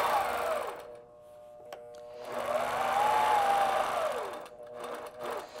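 A longarm quilting machine stitches fabric along a ruler, a steady whirring hum that rises and falls in pitch as the head moves, close and continuous for several seconds.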